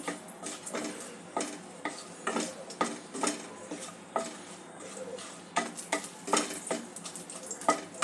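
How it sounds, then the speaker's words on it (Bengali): Whole spices (cardamom, cloves, cinnamon and bay leaves) fry in ghee in a pan, a soft sizzle broken by repeated clinks and scrapes of a spoon stirring against the metal, close by with no talking. "এগুলো ঘিয়ের সঙ্গে যোগ করে দেব। ফোড়নটা একটু ভেজে নেব।"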